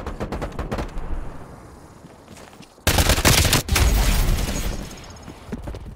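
Rapid automatic AK-74u gunfire from a Call of Duty Black Ops Cold War team deathmatch, with bursts of shots and a loud sustained volley in the second half, mixed with explosion-like booms and game ambience.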